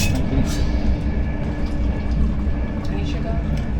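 Steady, loud rumble of a first-class passenger train rolling along the rails, a continuous close interior drone with faint rattles throughout.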